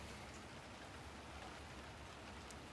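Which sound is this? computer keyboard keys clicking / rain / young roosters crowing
rain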